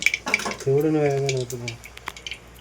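Mustard seeds crackling in hot oil in a home kitchen pan, a short busy patch of light pops and sizzle heard close, with a voice speaking over part of it.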